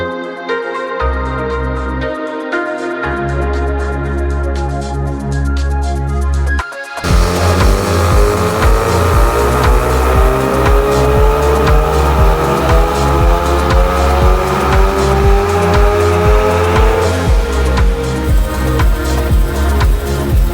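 A Ford Focus MK3 RS with a REVO Stage 2 tune is run on a dyno in two-wheel drive. A loud, close engine idles and blips, then climbs steadily through the gears in one long sustained pull, roaring and rising in pitch.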